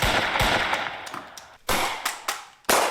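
Gunfire in a comedy short film shootout: a rapid burst of loud, close shots followed by several spaced single cracks, harsh and echoing with no talk.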